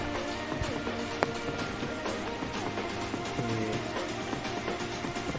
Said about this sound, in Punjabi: ਇਹ ਵੇਖੋ ਬਾਰਿਸ਼ ਬੜੀ ਤੇਜ਼ ਲੱਗੀ ਹੈ